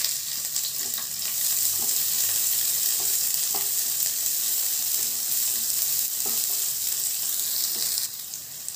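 Chopped medium-sized onion frying in a pan for a keerai poriyal, giving a steady, close hiss and crackle with a few light stirring taps.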